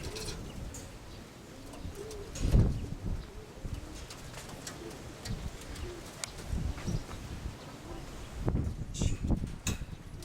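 Pigeons coo softly nearby in a low, repeated murmur, mixed with rustling, handling noises and a few louder bumps, no talking.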